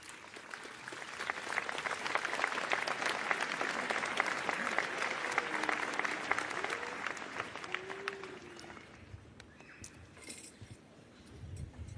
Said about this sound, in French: s'il vous plaît, n'applaudissez plus.